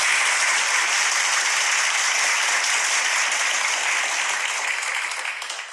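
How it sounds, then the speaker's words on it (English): Dense applause from a large crowd on an old radio show recording, a steady hissing wash of clapping that holds evenly before starting to fade at the end. "And you know that applause came from the original radio show with Robert Conrad."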